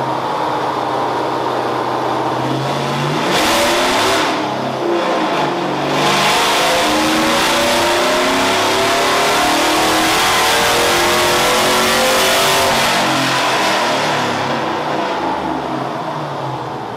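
A 5.3L Vortec truck engine on a dyno revs hard and continuously, its pitch climbing through sustained loud pulls with steady rising harmonics, close and dominant throughout with no talking.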